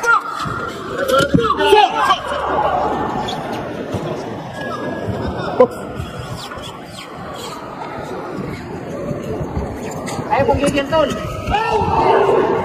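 Supporters of boxer Casimero shout and cheer at a boxing match, a dense roaring crowd with swelling bursts of yells throughout; a voice briefly speaks over the noise.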